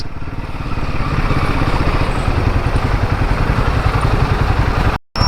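A Royal Enfield Himalayan 450 motorcycle engine runs steadily close by, with a loud, rapid, even thrum and some clatter, then a very short dropout just before the end.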